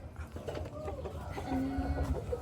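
Chickens cluck softly around a Hmong village in Hongsa, Xayabury, with a few low, scattered calls over a murmur of rural background noise, no clear voices.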